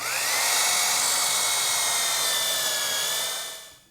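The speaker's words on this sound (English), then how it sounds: "I'm ready to drill the holes using a 1/2-inch brad point bit, and I'll go through both pieces at once." A drill bores holes through two stacked pieces of wood with a 1/2-inch brad point bit, a loud, steady high whine that holds for a few seconds, then tails off as the bit winds down, with no talking.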